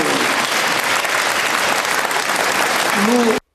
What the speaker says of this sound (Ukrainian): Оплесками, будь ласка